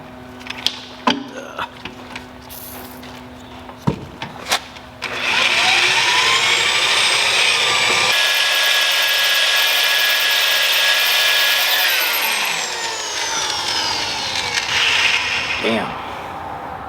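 Power drill boring a hole with a bit sized for a 3/8-24 tap during PTO shaft repair on an Alamo SHD 88 flail mower: a few clicks and knocks, then a loud, steady whine for about ten seconds that gradually winds down.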